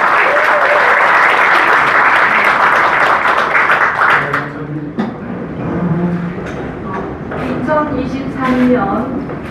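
Audience applause at the opening ceremony of an art fair in a hotel, a steady dense wash of clapping that fades after a few seconds as a voice and light activity take over.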